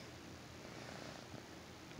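A kitten purrs close up, a continuous low rumbling vibration that stays steady and fairly faint throughout about two seconds with no talking.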